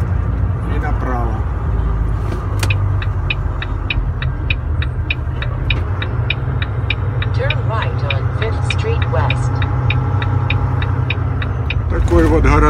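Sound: truck driving through town

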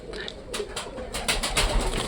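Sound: pigeon cooing

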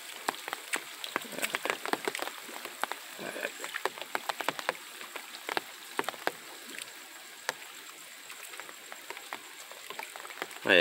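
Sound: rain falling in early morning

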